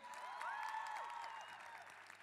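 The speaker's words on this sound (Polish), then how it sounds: "Wielkie oklaski." Applause from the audience at a Christian retreat gathering, faint and steady, running for about two seconds beneath sustained tonal sounds.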